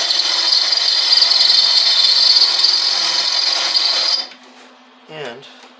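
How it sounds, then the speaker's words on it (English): A power drill boring holes while fitting pop-out headlights on an Avro Speedster car, a loud steady high whine held for about four seconds close by, then stopping, with a brief voice afterward. "I'll just set that right there like that and drill these two holes."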